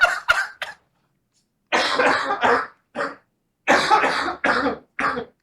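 Several harsh, close coughs in quick bursts, separated by short silences, with a throaty, raspy quality.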